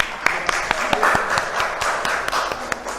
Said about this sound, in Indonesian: kita kasih tepuk tangan untuk kita semuanya